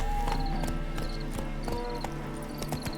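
Roach, Geralt's horse in The Witcher 3: Hearts of Stone, clip-clops steadily across the ground in game audio. The hoofbeats are close and even over a soft background bed, with no talk.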